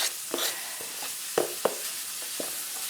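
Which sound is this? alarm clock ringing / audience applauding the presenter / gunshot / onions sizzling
onions sizzling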